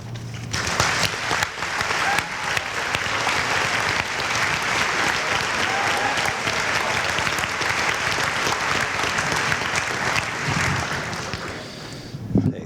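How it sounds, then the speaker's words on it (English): Sustained applause from an audience at an 8th grade promotion ceremony, a dense steady clatter of many hands clapping for about twelve seconds before tapering off at the end. "One more round of applause."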